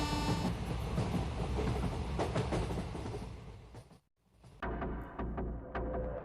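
A train runs in a horror story sound effect: loud, steady rumbling and rattling wheels with a tonal blast at the start. The sound drops out briefly, then the rattle returns.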